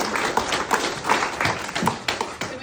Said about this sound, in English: If everyone could give a round of applause to my grandmother for planning this awesome party and hiring the caterer